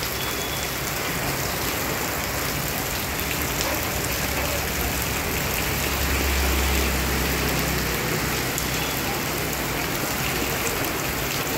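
Heavy morning rain pouring down in a village street flooded knee-deep, a dense, unbroken roar at steady loudness with a faint low engine-like rumble beneath.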